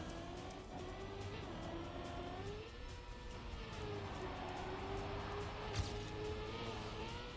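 A race car engine in the Trackmania video game, driven on an ice track, drones steadily at high revs and slides as the driver pushes the throttle, with a small sharp bump near the end.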